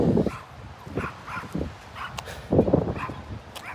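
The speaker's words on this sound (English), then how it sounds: "What a cute dog you have." A small dog gives repeated short yips and barks close by, coming in uneven bursts over a low rumble of background noise.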